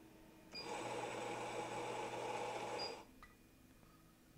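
An espresso-bar coffee grinder grinds beans in one steady, close, loud burst of about two and a half seconds, a high whirring buzz, then stops abruptly, leaving faint room noise.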